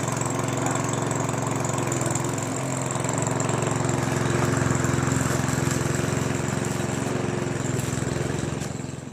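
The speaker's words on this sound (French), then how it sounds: "On tire sur la manivelle et" A Parkside petrol lawn mower from Lidl runs steadily after a pull start, its loud, continuous engine drone holding at an even pitch for about nine seconds with no talking.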